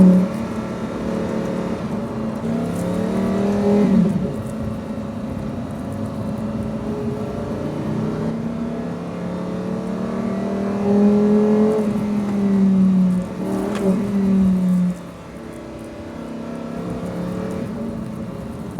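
A 2024 Lamborghini Huracan STO pulls away on the road, its engine rising and falling through gear changes with loud, close revving and strong acceleration swells, then easing to a lower cruise.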